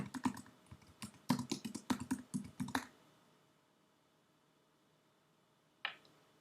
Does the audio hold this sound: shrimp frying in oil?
no